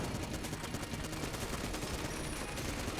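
Constant gunfire in an Enter the Gungeon boss fight, a dense, fast, unbroken stream of shots at a steady level that fills the whole moment.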